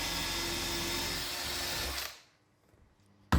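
A hand drill with a bit bores out a mortise in wood for a traditional saw bench, a steady close whirring grind for about two seconds before it stops, then a brief knock at the end.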